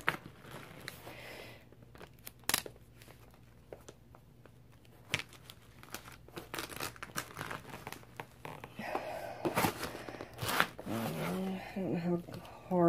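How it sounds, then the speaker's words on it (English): Packing tape is pulled and pressed inside a cardboard box in sparse, close bursts of screeching unrolling, crinkling and tapping, separated by quiet gaps, with a person talking in between. "Now maybe if I tape the inside first."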